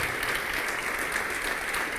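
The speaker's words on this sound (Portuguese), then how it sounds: "Vamos dar uma salva de palmas para Jesus." A church congregation claps for Jesus, dense, continuous applause from a crowd that fills the whole moment.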